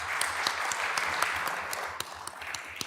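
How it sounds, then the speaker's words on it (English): Steady applause from a crowd, a dense even wash of clapping throughout with a few sharper claps standing out. "Let's give them a big round of applause."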